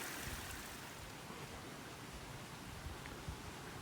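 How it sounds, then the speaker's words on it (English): A waterfall flowing into a garden goldfish pond, a continuous broad rushing hiss of falling water, steady and fairly faint, with no talking. "I'll give a quick little video of the entire waterfall"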